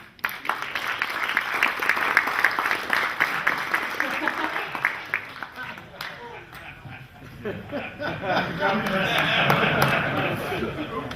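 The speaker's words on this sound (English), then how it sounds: "he deserves at least a good round of applause" An audience applauds at an astronomy club's monthly meeting, a sustained round of clapping that thins out midway as a voice begins talking over the tail.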